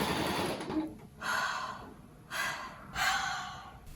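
A sewing machine stitches the fabric body of a large plush cat in three short, fairly quiet whirring bursts separated by pauses.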